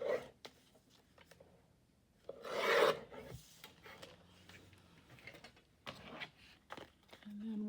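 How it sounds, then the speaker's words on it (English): Scissors trim a paper tag into shape for a journal, giving soft rasping cuts close by, with a louder stretch of cutting partway through. "So I'm going to trim a little bit off of there."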